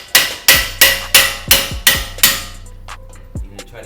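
Hammer blows on a brake rotor of a 2014-or-later BMW 5 Series during a brake pad and rotor job, seven sharp metallic strikes at a steady pace, each ringing briefly, followed by a couple of softer taps.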